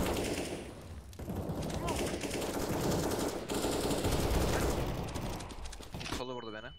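Rapid automatic gunfire from a Counter-Strike style multiplayer shooter plays loud and continuous, with bursts layered over one another and players talking over the action.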